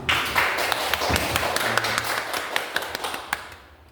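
Audience at an educational presentation gives a short round of applause, a scattered patter of claps with sharper individual taps, fading toward the end.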